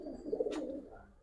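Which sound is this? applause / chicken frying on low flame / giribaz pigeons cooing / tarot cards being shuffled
giribaz pigeons cooing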